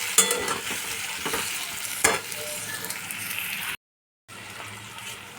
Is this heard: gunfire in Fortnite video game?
no